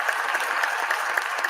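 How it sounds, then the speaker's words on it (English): Spectators, members and staff in a Senate gallery clap together in steady, dense applause, a continuous close wash of hand claps with no voices over it. "the members and staff and spectators in the gallery be allowed to applaud for a period not to exceed 30 seconds"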